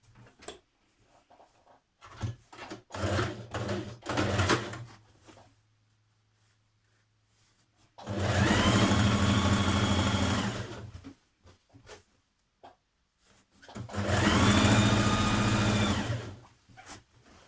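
A sewing machine stitches the inner seam of a pair of trousers with a 1.5 cm seam allowance, a short broken burst followed by two long, loud, steady runs separated by a pause.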